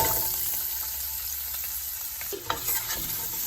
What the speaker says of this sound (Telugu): ఆనియన్ ఫ్రై అయ్యేదాకా ఫ్రై చేసుకోవాలి.